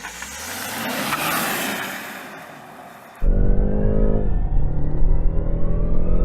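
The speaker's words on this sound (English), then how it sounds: "let's see if I can improve on my best 0 to 60 mile an hour time" A BMW hybrid car launches hard from a standstill for a 0 to 60 mph run: after fading road noise, a loud engine surges abruptly and roars steadily upward, close and dominant.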